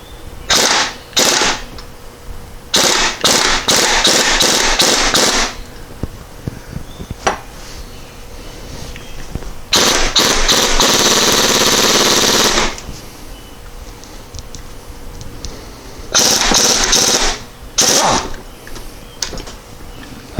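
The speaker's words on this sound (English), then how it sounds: "air impact action to try to blast that off there" A pneumatic air impact wrench hammers at a transmission nut on a 1993 VW Cabriolet during a clutch job, firing in several loud, close rattling bursts of a second or two, separated by pauses.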